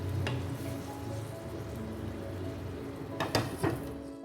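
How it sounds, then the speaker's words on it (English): Rice and corn simmering in a pot give a low, steady bubbling sizzle, close and soft, broken near the end by a few brief clinks of a utensil. "So let that simmer again."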